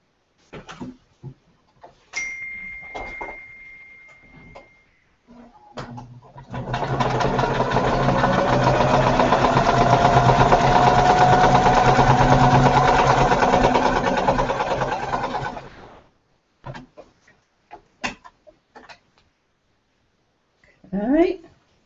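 A sewing machine stitching quilt pieces runs in a long steady whirring burst of about nine seconds, close and fairly loud, framed by scattered clicks and handling noises before and after.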